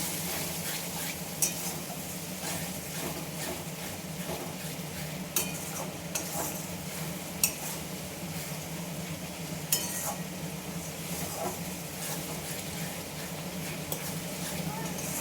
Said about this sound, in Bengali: মশলাটা যতক্ষণ না তেল ছাড়ে আসে বেশ একটু নেড়ে চেড়ে কষিয়ে নিতে হবে